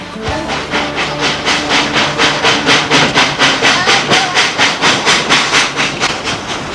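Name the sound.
steam locomotive pulling a train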